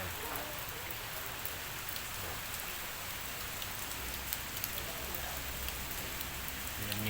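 Steady rain falls on surfaces in a neighbourhood, a dense continuous hiss with scattered drops, fairly loud and without talk.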